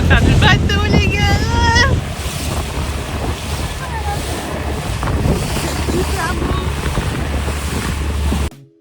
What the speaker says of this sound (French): Vous allez grave entendre les vagues sur le bateau